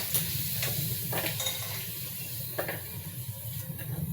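Potatoes frying in oil in a pan, a continuous hiss of sizzling with intermittent clinks of a utensil stirring against the pan.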